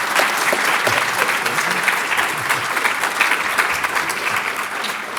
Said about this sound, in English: Can we give a big round of applause?